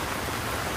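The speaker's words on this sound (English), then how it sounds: "It's like pouring rain." Heavy rain falls outdoors as a dense, steady hiss that is loud and unbroken for the brief moment.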